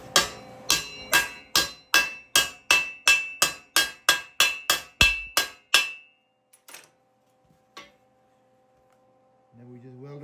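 Hammer tapping on a Case 430 tractor part during repair, about fourteen sharp metallic strikes in a quick, even rhythm, close and loud, then silence with a few faint clinks.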